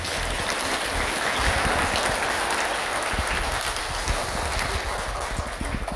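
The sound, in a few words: audience applause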